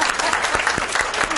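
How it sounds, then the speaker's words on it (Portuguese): Audience at a spine health lecture breaks into brief, dense applause, many hands clapping together at close range. "primeiro uma salva de palmas."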